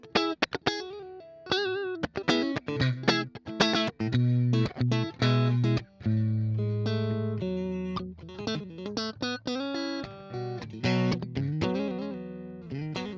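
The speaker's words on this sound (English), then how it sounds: "clean is meant to give you high headroom and dynamic clean tones all the way up to 50 watts" Electric guitar played through a VOX MV50 amplifier on its clean setting, a run of plucked notes and ringing chords with sustained tones and some effect coloring, played alone without talk.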